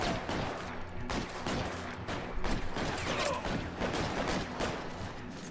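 Tommy gun fire in L.A. Noire, loud rapid bursts of automatic shots repeating steadily throughout, with a dense crackling shootout and faint voices mixed beneath.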